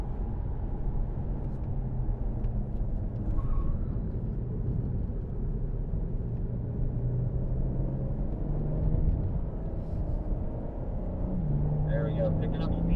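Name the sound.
BMW M4 car driving on a race track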